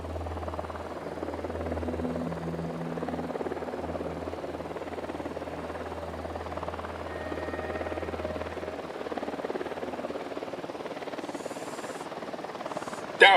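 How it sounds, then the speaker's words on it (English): A helicopter in the video game Ghost Recon Wildlands drones steadily with a low rotor hum, holding at moderate loudness throughout before a sharp burst at the very end. "Helicopter incoming."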